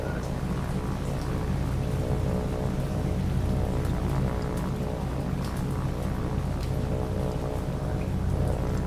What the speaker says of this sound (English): It's too rainy for him to see me.